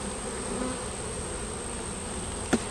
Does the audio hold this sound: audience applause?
no